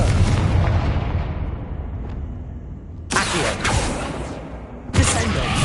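A Confringo spell explosion in Hogwarts Legacy: a loud rumbling blast that fades, followed by two sharp, bright bursts of fiery impact in quick succession.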